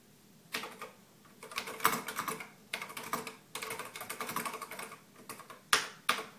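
Keys clatter on an Altair 8800 terminal keyboard in bursts of quick, close keystrokes with brief pauses between runs, loud and crisp, with no voices.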